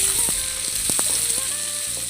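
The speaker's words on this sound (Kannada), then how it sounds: "ಈಗ ಹೆಚ್ಚಿಟ್ಟಿರೋಂಥ ಈರುಳ್ಳಿನ ಹಾಕಿ ಚೆನ್ನಾಗಿ ಫ್ರೈ ಮಾಡ್ಕೊಬೇಕು" Chopped onions frying in hot oil for kalu saru, a steady loud sizzle running throughout, with a few short clinks and scrapes from a utensil against the pan.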